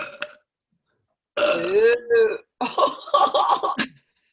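A person lets out a long, loud, close burp with a drawn-out voiced tone, then several shorter burping bursts follow, with no speech in between.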